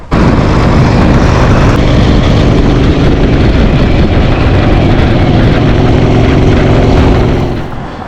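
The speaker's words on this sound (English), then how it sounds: "I'm gonna get this thing outside, start it up, and go for a ride." A 1976 Harley-Davidson Sportster 1000 engine bursts in abruptly and runs with a loud, rough, low rumble close by before tapering off at the end, with no talk.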